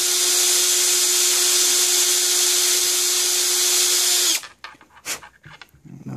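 A drill bores the air hole in a Kayfun atomizer, a loud steady high-pitched electric whine up close that runs for several seconds before cutting off abruptly, followed by faint handling clatter.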